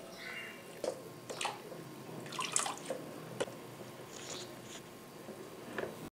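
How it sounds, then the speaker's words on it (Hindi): Soaked raw potatoes being drained of water through a kitchen strainer, giving scattered drips, splashes and wet squishes at moderate volume, close by, with no talking. "अब हम इसको पानी से निकाल लेंगे और स्कैनर में डाल के इसे छान लेंगे अच्छे से"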